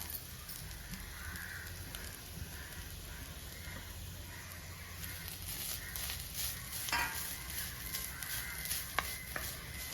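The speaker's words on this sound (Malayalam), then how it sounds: "ഒരു അരമുറി തേങ്ങ ഞാൻ ചിരകി എടുത്തിട്ടുണ്ട്. ഇതൊന്ന് വറുത്തെടുക്കാം" Grated coconut roasting in a pan with curry leaves, giving a soft, steady sizzle and occasional scraping stirs, with a faint crow cawing in the background.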